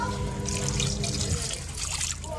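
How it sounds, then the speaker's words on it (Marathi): Water is poured into spiced masale bhat rice cooking in a pot over a wood-fired stove, a steady splashing trickle that runs on continuously without talk. "आता याच्यात थोडं पाणी टाकायचं आहे,"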